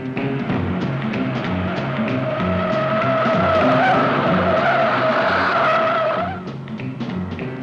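A car chase plays out with tires skidding in a long, loud, wavering squeal over revving engines, cutting off abruptly near the end as the engine noise carries on.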